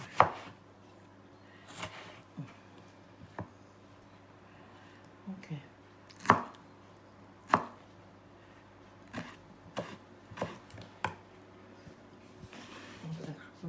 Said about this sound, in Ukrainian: І також дрібненько наріжу